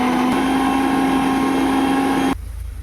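Electric mixer grinder whirring while blending ginger and vegetables into paste, a steady loud motor whine that cuts off abruptly near the end, leaving quiet room noise.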